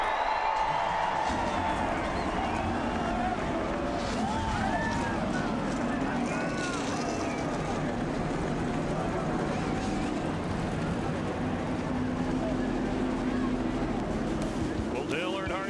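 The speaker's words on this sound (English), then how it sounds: "Gentlemen, start your engines." NASCAR race cars fire their engines at Talladega, a broad roar heard beneath a cheering crowd and an announcer's voice, sustained and fairly distant throughout.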